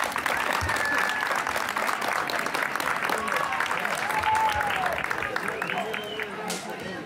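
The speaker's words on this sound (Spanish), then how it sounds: "A ellos démosles un fuerte aplauso para que se animen." An assembly gathered for a raffle of stewardships applauds the newly chosen stewards, steady crowd clapping lasting several seconds with voices and cheers mixed in underneath.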